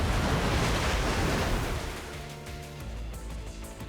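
A rush of water surges in a game scene, a broad roaring wash that is loud at first, then eases into a softer, rumbling flow with faint clicks and tones on top.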